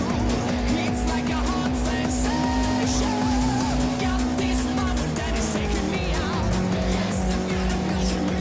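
Car engine droning steadily at high revs in Forza Horizon 5 racing, held in gear with a pitch shift partway through and faint tire squeal flickering over the continuous loud motor.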